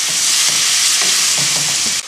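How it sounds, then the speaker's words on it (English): Ground beef and ground pork browning in a wok, a loud, dense sizzle close up with repeated scraping stirs, no voices. "In my trusty wok, I'm browning a pound of ground beef and a pound of ground pork."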